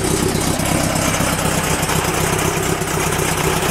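1959 VW Double Cab with a 1904 stroker engine, dual 44 Weber carburetors and a vintage speed exhaust, idling in a steady, close, rumbling drone without a break.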